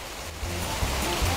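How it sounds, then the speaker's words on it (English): Steady rain patters from a small cartoon cloud onto potted geraniums, a dense continuous hiss with soft splashy droplet hits throughout. "All my geraniums needed was a little rain!"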